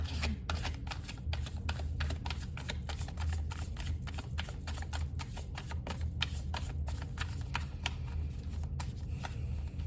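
Rapid riffling of playing cards being shuffled, a continuous crisp flutter of many quick clicks lasting throughout, close and steady.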